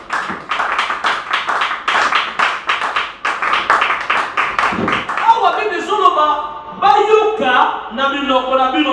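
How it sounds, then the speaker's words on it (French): At a charismatic church seminar, a congregation claps loudly in quick rhythmic bursts. Singing voices then rise over the continuing claps. "Acclamons pour la parole de Dieu."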